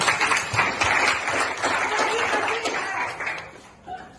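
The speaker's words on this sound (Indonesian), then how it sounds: "Tepuk tangan." A classroom of students claps together in a brief burst of applause mixed with light chuckles and laughter. The clapping fades out near the end.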